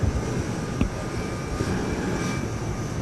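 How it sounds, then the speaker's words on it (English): Engines of a Boeing commercial airliner on its first flight roar as a steady, broad, close drone with no one speaking. "this will be the first flight of what I think is maybe the greatest commercial plane ever built"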